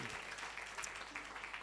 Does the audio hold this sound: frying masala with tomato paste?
no